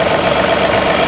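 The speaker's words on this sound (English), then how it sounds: "Let's go ahead and start the tractor up." A tractor engine running at a steady idle, loud and close with a constant mid-pitched hum and no pauses.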